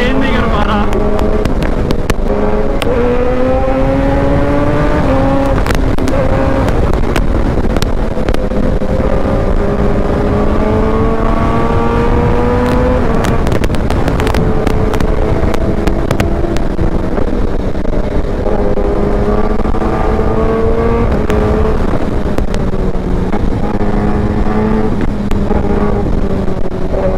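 Kawasaki ZX10R and BMW S1000RR superbikes race flat out on a highway, engines droning loudly and continuously with rising and falling pitch sweeps, wind buffeting the microphone throughout.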